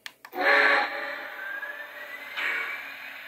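Startup sound effect from a Lionel LionChief Plus 2.0 or Legacy toy steam locomotive: a brief click, then a loud hissing steam burst that fades into a steady mechanical hum, with a second, softer hiss near the end.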